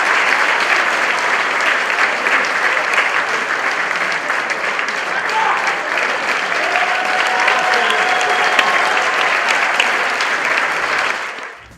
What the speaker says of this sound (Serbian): Na kraju premijere zasluženo su pobrali simpatije publike, izražene gromoglasnim aplauzom.